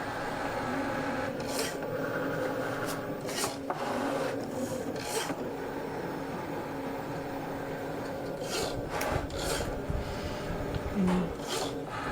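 A Cricut Maker 4 cutting machine scores material with a steady close mechanical whir, punctuated by repeated short rasping passes of the blade carriage.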